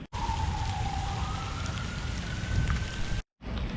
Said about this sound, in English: This rain is getting really thick.